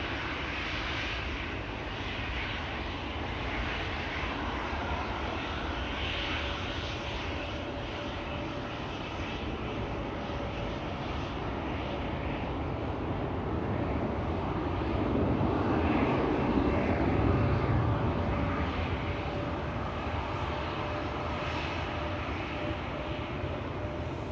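A KLM Boeing 737 lining up at Schiphol Airport produces a steady, fairly distant jet engine drone that holds even throughout and grows a little louder toward the middle.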